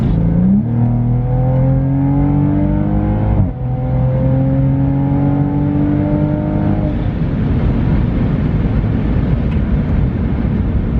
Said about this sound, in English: So all the noise is coming from the exhaust itself